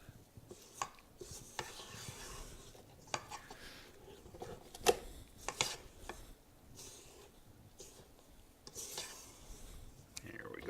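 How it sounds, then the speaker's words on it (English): A spatula scraping around a mixing bowl of peanut chocolate chip cookie dough and butter, giving quiet, irregular rubbing and scraping strokes with a few sharper clicks against the bowl, fairly close and moderately soft. "I like to give the bowl a scrape to make sure we're getting all of the butter into it"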